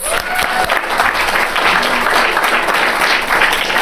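An audience at an evening awards and scholarships ceremony at the Roosevelt Hotel breaks into sustained, dense applause, many hands clapping together close and loud for the full few seconds.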